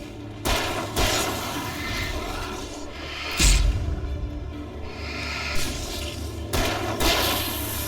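Gunshots in the game Alan Wake Remastered ring out in several sharp, loud blasts spaced a second or more apart, one heavier booming shot among them, over low game ambience without talk.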